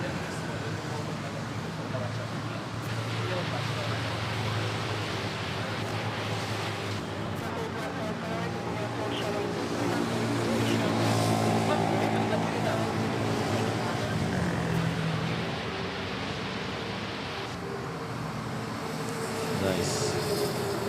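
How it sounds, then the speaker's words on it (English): An AirAsia Airbus A320 arriving at Manila airport makes a steady, broad jet roar that swells and fades over about twenty seconds, with a person talking over it and no distinct event marking touchdown. "AirAsia, arriving from Katiklan, A320."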